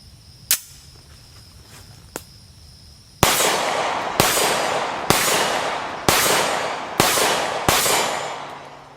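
A Remington R51 Gen 2 pistol fires six brass-case rounds: two faint, isolated cracks first, then a loud, fast string of gunshots about a second apart, each with a ringing decay.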